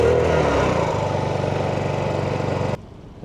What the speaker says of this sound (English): Because the windlass takes so much power, I'm also going to start my generator just to not drain the batteries.